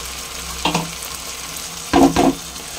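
Potatoes, carrots and beans with a spice paste fry in a pan, giving a steady close sizzle broken by a few brief bursts of stirring and scraping.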